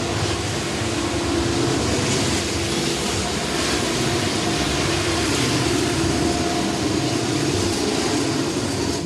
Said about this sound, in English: Mid-train helpers coming by.